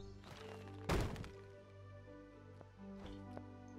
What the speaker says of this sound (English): Cut down the tree.